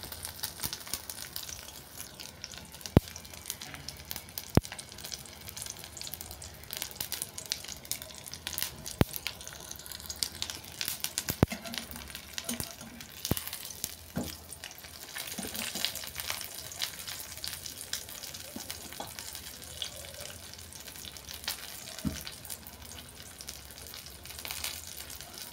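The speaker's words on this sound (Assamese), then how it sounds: "তো মই মাছৰখিনি এনেকৈ ভাজি লৈছোঁ।" Fish fries in a pan, a faint continuous sizzle and crackle with scattered sharp pops and spatters, steady for the whole stretch with no talking.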